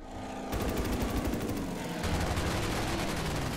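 Aircraft guns strafing ships in the Order of Battle: Pacific war game, heard as a loud, dense, rapid rattle of automatic gunfire that kicks in after a half-second and carries on without a break.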